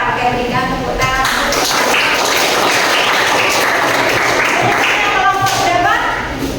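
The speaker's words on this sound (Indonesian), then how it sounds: "berikan tepuk tangan" Steady applause from a classroom group of students, loud and continuous throughout, with voices talking over it near the start and end.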